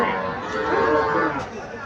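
A Sahiwal calf at a crowded cattle market gives one long, loud moo close by, with faint voices around it.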